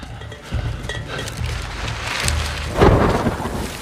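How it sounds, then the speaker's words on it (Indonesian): A light rain shower falls in the Amazon rainforest during the rainy season, steady patter on leaves with a louder burst of rumbling noise partway through. "In rainy season, this is a light shower."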